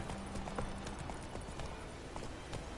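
Hooves of Roach, a horse galloping in The Witcher 3: Wild Hunt, beat in a steady rapid clip-clop under a continuous rushing outdoor ambience.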